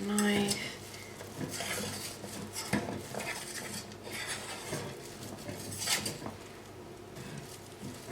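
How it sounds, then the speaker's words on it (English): A metal knife scrapes and clinks around the edge of a freshly baked carrot cake in its pan, making close, busy scraping with light metallic taps that keep going throughout. "So now I'm gonna run a knife"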